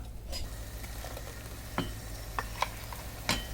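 Blended tomato is added to onions frying in a pan for chili prawns, producing a steady, fairly quiet sizzle with occasional scraping strokes of a stirring spoon.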